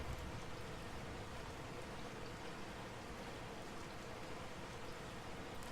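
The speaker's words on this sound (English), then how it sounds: "Leon will get wet because it is now raining" Steady rain falls in the game Resident Evil 4, a constant soft hiss of drops on surfaces, even and unbroken throughout, quiet and with no talking.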